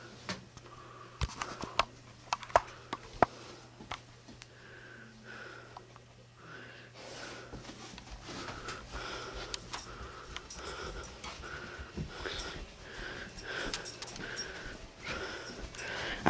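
A dog sniffs repeatedly in short, quick bursts at close range, with soft snorts and light pattering mixed in against a quiet background.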